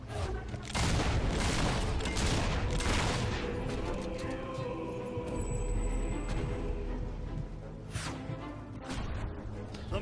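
Gunfire in the fantasy action game Fable III, a steady barrage of shots and booms over a low rumble, loud and continuous across the whole stretch with no clear talk.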